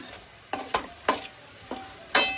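Tomatoes and onions are stirred in a pan for a chicken biryani, a soft frying hiss punctuated by six distinct scraping strokes of the spoon at an uneven pace, close and clear with no talk.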